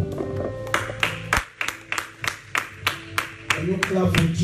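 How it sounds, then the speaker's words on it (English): A church congregation claps in a steady rhythm, about a dozen crisp hand claps in even beats, mixed with singing or voices running under them. "Can you clap for Jesus?"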